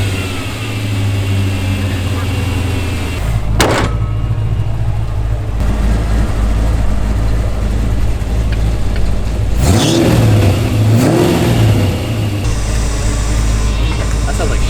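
A Jaguar engine cranking to life after a jump start from a battery charger, then revving up and settling near idle, loud and close, with people talking over it.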